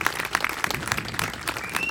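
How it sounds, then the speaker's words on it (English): A crowd at a sheepdog trial finals claps for fourteen handlers, a short, even wash of applause from many hands, moderately close. "How about a nice round of applause for all 14 of them"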